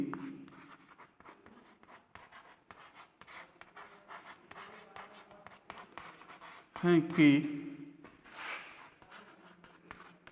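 Pen scratching across paper as equations are written out during a maths lesson on quadratic polynomials, soft, close and intermittent, with a teacher's voice talking throughout and a louder spoken burst near the end.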